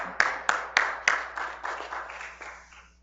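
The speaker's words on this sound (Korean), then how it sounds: "박수 한번 드립니다" A church congregation gives a short round of applause, opening with a few sharp, separate claps that swell into a brief reverberant wash and fade out within seconds.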